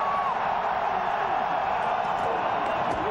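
A sellout college football crowd at Jack Trice Stadium for a 2000 Nebraska versus Iowa State game roars in a steady, dense wash of cheering and whooping that holds constant from start to finish.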